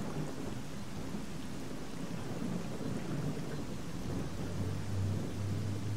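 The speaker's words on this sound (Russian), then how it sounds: "А вот сейчас уже дождь слышно." Rain and rolling thunder in the video game S.T.A.L.K.E.R. Call of Pripyat form a continuous, dense wash of falling rain, with a deep thunder rumble building toward the end. No one speaks.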